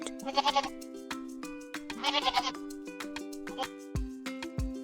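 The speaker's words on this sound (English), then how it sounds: "It's a goat." A goat bleats in close, loud wavering cries, several in a row, over a bright playful melody with plucked notes from a children's animal guessing game.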